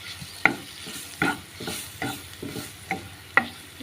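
Maggi noodles with garam masala, turmeric and Maggi masala are stirred in a pan, the spoon scraping in regular strokes about every half second over a soft sizzle. No one speaks.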